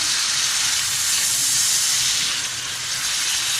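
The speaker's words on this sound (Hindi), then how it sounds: "अब इसके बाद हम ये अदरक लहसुन का पेस्ट डालेंगे" Ginger garlic paste hits hot oil with frying beef liver, giving a loud, steady broadband sizzle that hisses evenly throughout without pause.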